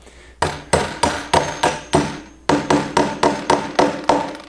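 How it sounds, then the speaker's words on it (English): A hammer strikes a hex head nut about a dozen times to drive it into wood, each blow a sharp, close, ringing knock in a steady rhythm, with one short pause partway through. "what you're doing is just driving that in through the wood so it doesn't spin"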